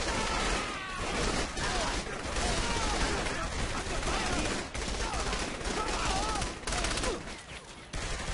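Enemies in Saints Row 3 fire sustained volleys of gunfire with rapid overlapping shots, loud and continuous, with voices in the background.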